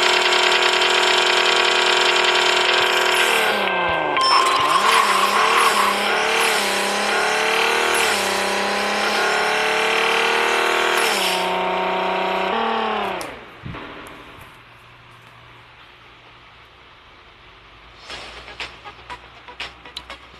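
A Corvette Stingray in the Racing Rivals drag-racing game launches off the line. The engine roars loud and steady for about twelve seconds through the gear changes, then cuts off abruptly and leaves quiet background noise.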